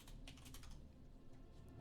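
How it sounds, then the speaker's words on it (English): Computer keyboard typing in caps lock while searching Google, a quiet run of quick key clicks in bursts, close and faint with no talking. "I'll continue typing in caps lock until I finish the query."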